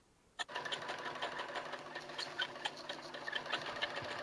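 A sewing machine stitches steadily through layered foam, fabric and interfacing, its motor whirring with a fast regular needle rhythm that starts abruptly and runs close and continuous.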